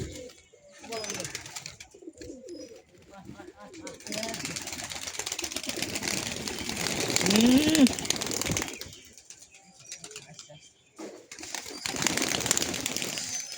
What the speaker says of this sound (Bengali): দেখতে পাচ্ছ ওই পায়রাটা এসেছে